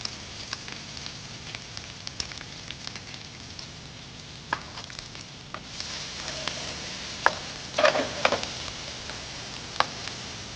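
Chopped onions going into hot oil already crackling with fried curry leaves, sizzling steadily with scattered sharp pops and spits, close and fairly quiet, building slightly louder toward the end with no talking.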